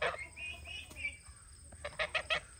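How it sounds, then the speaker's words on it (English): Young turkeys on a small farm give a run of high, thin calls, a few drawn-out notes early on, then a quick cluster of four sharp yelps near the end, fairly close and unaccompanied by talk. "I hear you, turkeys."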